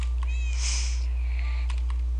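A Minecraft cat gives a single clear meow near the start, followed by a few faint softer sounds over a steady low electronic hum.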